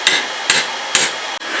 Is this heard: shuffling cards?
no